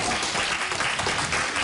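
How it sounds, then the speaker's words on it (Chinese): Brief burst of steady applause in a Taiwanese Legislative Yuan economic committee session, many hands clapping together at moderate distance, dense and even with no break. "笑嘻嘻的接受其他人的掌声"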